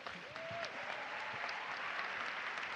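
Applause from the audience at a European Erasmus+ panel event welcoming a speaker, steady clapping across the whole stretch with a faint whistle-like tone early on.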